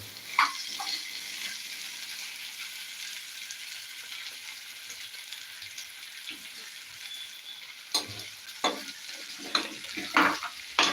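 Appam batter being stirred in a pan with a spoon; steady sizzling-like scraping hiss throughout, with a cluster of sharper clicks and knocks near the end, no talking.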